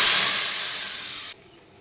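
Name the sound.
curry leaves and mustard seeds sizzling in tempering oil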